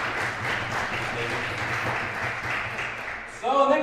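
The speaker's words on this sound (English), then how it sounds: "That's applause." Audience applause at a student network national assembly, steady clapping from a crowd through most of the clip, with a burst of louder cheering and voices near the end.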